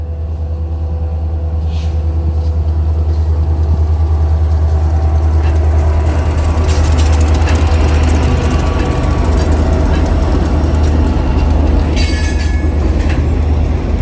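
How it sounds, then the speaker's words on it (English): An extra long freight train on a short line railroad rolls past loud and close, carrying grain cars from an elevator, with a heavy continuous rumble, clattering wheels and brief high wheel squeals. "It's an extra long train"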